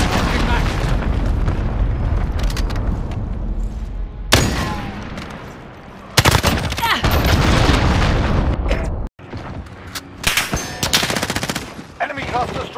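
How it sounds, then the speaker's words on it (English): Cruise missile strike explosions in Call of Duty Modern Warfare, loud booming blasts and dense rattling gunfire in heavy bursts, broken by sudden cuts and brief lulls, with game voices calling out over the battle. "Cruise missile away."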